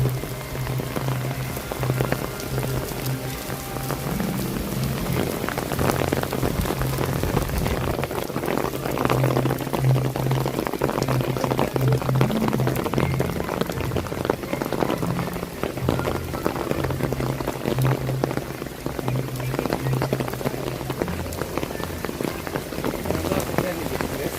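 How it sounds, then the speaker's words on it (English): Steady rain pours down across Disney's Animal Kingdom theme park, a dense, continuous hiss of drops pattering on surfaces, with a low hum and faint voices mixed in beneath the downpour. "I don't think the rain will be super long"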